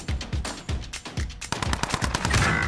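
Rapid, punchy gunfire from a shotgun in the Warzone video game, loud and close, with repeated blasts that grow denser and harsher toward the end, no talk.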